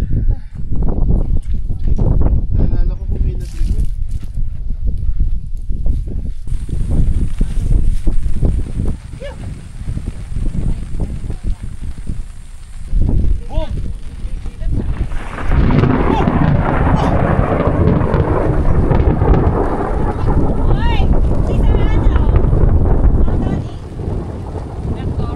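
Strong wind at a campsite on the edge of a cliff, heavy gusts buffeting the microphone in loud roaring waves for the whole stretch, briefly easing before a fierce surge late on.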